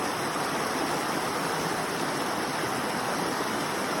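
Flowing stream water rushes in a steady, dense, close hiss that stays constant throughout, with no voices or other sounds on top.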